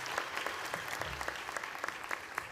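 Steady audience applause at a high school graduation, a dense patter of many hands clapping at moderate volume, with no voices over it.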